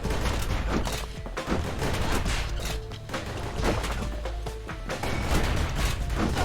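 Rapid gunfire and crashing hits in the action video game Bastion, dense bursts of shots going off continuously at close range with no talk over them.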